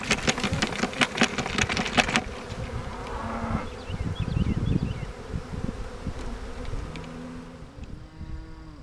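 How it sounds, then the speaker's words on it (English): A honeybee swarm buzzes inside a bait box, a dense steady insect hum that runs throughout, joined by some bumps and clatter early on and a lower droning tone near the end. "Alright, this is the other swarm we picked up."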